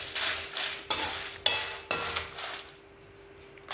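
Ingredients dry-roasting with a couple of pieces of rock salt in a pan for wedding-feast rasam: a soft scraping rattle punctuated by three sharp metallic clanks close by, then a quieter, fading rustle.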